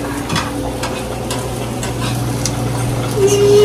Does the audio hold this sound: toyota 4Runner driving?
no